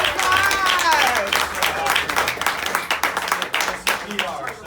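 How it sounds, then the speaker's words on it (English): A round of scattered clapping from meeting participants, several pairs of hands at a moderate distance, mixed with cheering voices and chatter, tapering unevenly toward the end. "Give it up for round of applause."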